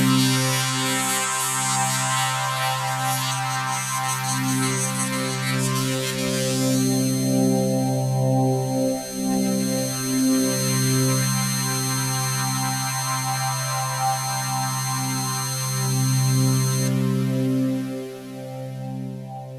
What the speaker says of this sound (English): we're going to have this higher pitched sound moving back and forth between the speakers.